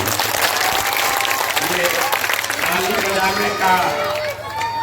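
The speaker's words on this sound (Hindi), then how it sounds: "अपना दुर्दशा देखिए, अपने बदहाली की बात सुनकर ताली बजा रहे" Audience clapping at a political rally speech, dense sustained applause from a large crowd filling the whole stretch, with some voices mixed in beneath.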